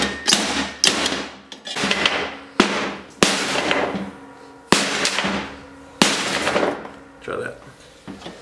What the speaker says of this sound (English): we're just using a piece of square tubing and smacking the crap out of it until it seats